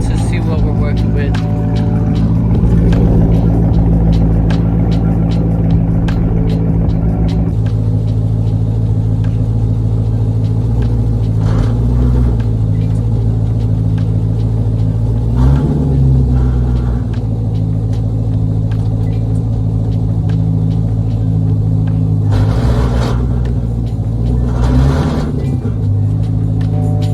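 A Cadillac CTS-V with a broken driveshaft rumbles at a deep, steady idle, with several brief revs swelling and fading at intervals as voices speak nearby.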